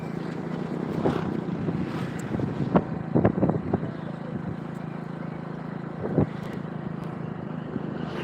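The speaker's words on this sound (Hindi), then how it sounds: "यहाँ हवा चल रही है, बहुत ज़्यादा हवा चल रही है आज" Strong outdoor wind buffets a microphone, producing a continuous loud, low roar with a few gusty swells and rattles throughout.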